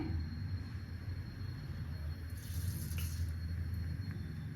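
Mustard seeds and cumin sputter in hot oil, making a faint, steady hiss with a brief burst of sharper crackling in the middle.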